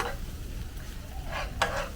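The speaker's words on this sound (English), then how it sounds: "You can hear it sizzling away." Soft hiss of chili and garlic sizzling in a hot pan, with a couple of brief scraping stirs, close and moderately quiet.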